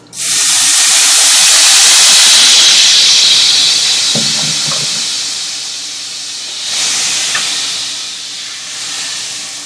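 Loud, hissing sizzle as teriyaki sauce hits a hot pan, bursting up sharply at first and then easing into a softer steady fry with a brief second surge, no talking.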